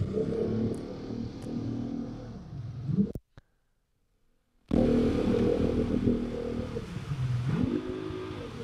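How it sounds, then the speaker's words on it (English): Engine of a boat that has just been made functional again, a steady loud rumbling drone that cuts out briefly to silence and then resumes, with a rising and falling pitch near the end. "That boat just sounds badass."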